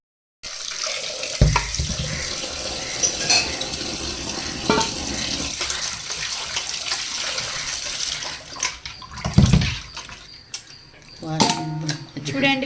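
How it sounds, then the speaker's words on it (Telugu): Water runs steadily from a tap while goat legs are washed clean for a mutton paya dish, with brief louder splashes and clatter near the start and around the middle, heard close up. "పొట్టేలు కాళ్ళు శుభ్రంగా నీట్గా కడుక్కోవాలి వాష్ చేసేసి"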